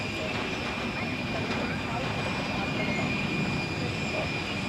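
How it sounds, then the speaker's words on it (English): An EgyptAir Boeing 737-800 begins its takeoff roll at Zurich, a broad steady jet roar with a faint high whine, heard from a distance with speech in the background. "And Egypt Air is rolling."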